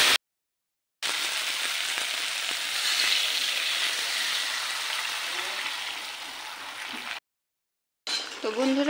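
A small fish curry with green tomato simmering in a pan, giving off a continuous close sizzle and bubbling hiss, broken by a couple of abrupt silent gaps.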